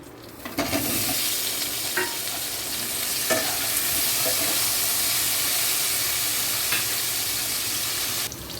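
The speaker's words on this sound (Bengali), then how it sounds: "এখন এটা ভাজবো।" Boiled taro pieces fry in a pan of hot oil with a steady, loud sizzle and hiss that runs the whole time, broken by a few scraping stirs of the spatula.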